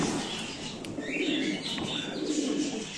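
Female pigeons coo softly and repeatedly close by, low throaty calls over a faint outdoor background with a few light chirps.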